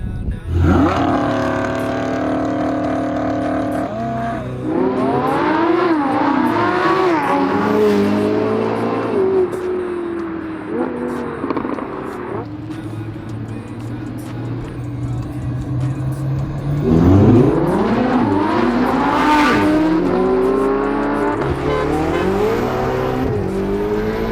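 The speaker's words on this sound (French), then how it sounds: "jusqu'à 200 la Huracan elle est devant. Et là, après la Ferrari elle prend le dessus." A Ferrari and a Lamborghini Huracán launching side by side from a standing start, loud engines revving and climbing through repeated upshifts in rising pitch sweeps, with a second hard acceleration burst later and faint tire squeal.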